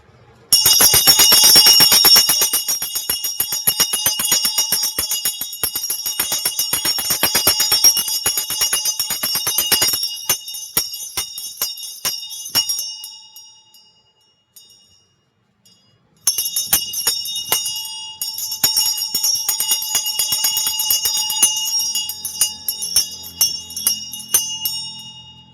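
A bell rung for healing rings out loud and bright in rapid repeated strikes, its shimmering tone sustained and decaying, then falls silent briefly before ringing again.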